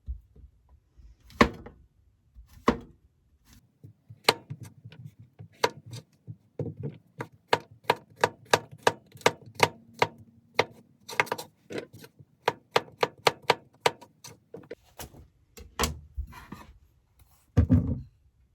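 A knife trimming and slicing mushrooms on a cutting board in a small camper kitchen, with sharp taps that start sparse and then turn into a quick run of steady chops, close, with no talk.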